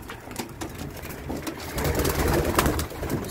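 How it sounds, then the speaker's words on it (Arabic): Pigeons, young birds loosed to fly alongside homing pigeons, coo repeatedly at close range, with soft rustling and flutter underneath that grows louder toward the end. "هنطير الحمام نشوف بقى هيطير معاهم ولا هيفضل"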